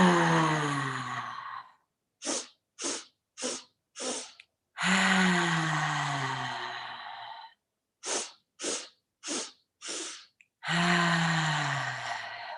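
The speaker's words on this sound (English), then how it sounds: "So four or so short sniffs in." Short nasal sniffs come in quick bursts of four, each set followed by a long, drawn-out breath during a guided bunny breathing exercise, close and clear with silence between the sniffs.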